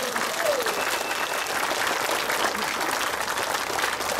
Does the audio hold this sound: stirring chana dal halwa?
no